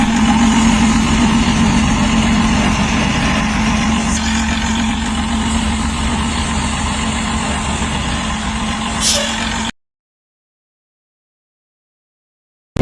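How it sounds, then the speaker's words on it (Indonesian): A bus engine in the Bus Simulator Indonesia game starts and settles into a loud, steady, rough idle with a deep throb, continuing for about nine seconds before it cuts off abruptly to silence. "demikianlah bunyi suara starter engine-nya seperti itu"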